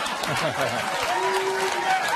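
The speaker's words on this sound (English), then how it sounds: "Don't applaud that." A studio audience claps in a loose, moderate burst, with chatter and a few chuckles mixed in and a voice speaking over the applause for most of its length.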